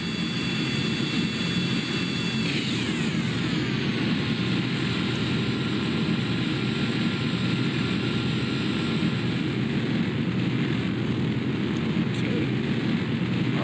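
Draco rocket engines firing on a VTOL spaceplane in Kerbal Space Program, a continuous loud roaring rumble that holds steady with a high tone sweeping downward early on.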